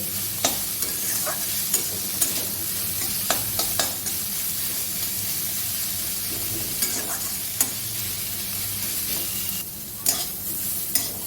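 Chillies frying in a pan on a gas stove give off a steady, close sizzle. Scattered clinks and scrapes of stirring punctuate it at irregular intervals.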